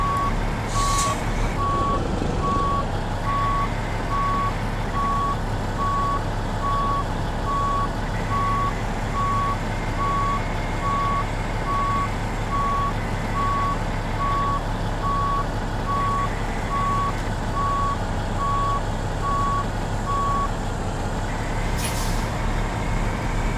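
A truck in American Truck Simulator backing into a tight spot, its reversing alarm beeping in a steady unbroken series over the low engine drone, with a short hiss of air brakes near the start and again near the end.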